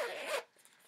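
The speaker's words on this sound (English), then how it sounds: "it's got a zipper at the top" Zipper on a Harry Potter tote bag is pulled in one quick, close, rasping stroke lasting under half a second, followed by quiet handling.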